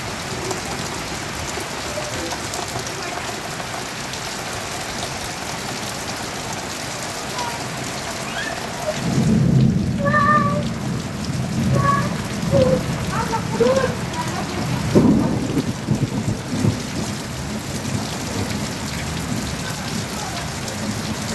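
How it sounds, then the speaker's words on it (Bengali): Heavy monsoon rain pours down steadily in Sylhet, heard from inside a house as a dense hiss on surfaces, with low rumbles of thunder swelling partway through and faint speech in places. "বৃষ্টি শুরু হয়ে গেছে"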